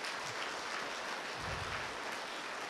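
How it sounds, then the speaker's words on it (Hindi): A school audience applauding at a school function, with steady, even clapping that holds from start to finish at moderate distance. "एक बार जोरदार तालियों से अभिनंदन"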